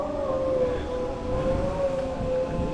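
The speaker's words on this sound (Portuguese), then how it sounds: "Os cachorros cantando." A long, wavering howl holds a steady pitch, siren-like, with several dogs howling together against a rough background noise, no speech.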